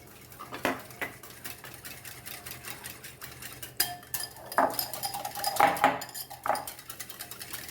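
Metal spoon scraping and clinking against a bowl while stirring a paneer marinade with malai and black pepper, close and fairly quiet, with irregular scrapes that grow busier and louder toward the end.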